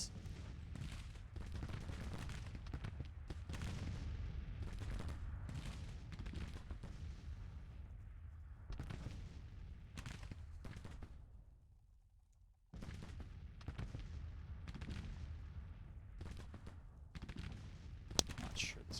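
Artillery fire in a wargame campaign, repeated heavy booms and rumbling impacts at irregular intervals, mostly low and distant-sounding, with a short lull midway before the barrage resumes.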